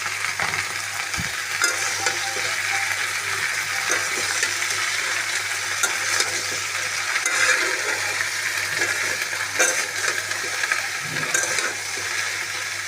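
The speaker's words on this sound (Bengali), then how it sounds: "কেটে রাখা ঢেঁড়সগুলো দিই।" Cut okra frying and being stirred in a pan, a steady sizzling hiss with scraping stirs and occasional spoon clinks throughout, fairly close and continuous with no voices.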